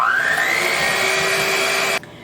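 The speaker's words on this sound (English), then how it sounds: "Add this to your butter as well, and then we're just gonna mix this quickly" An electric mixer whirs steadily through muffin batter and butter, its motor pitch rising slightly as it runs, loud and close, then cuts off abruptly near the end, with no one speaking.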